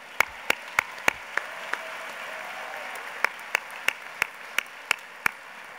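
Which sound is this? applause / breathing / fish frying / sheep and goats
applause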